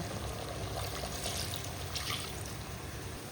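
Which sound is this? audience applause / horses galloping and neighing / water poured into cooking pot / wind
water poured into cooking pot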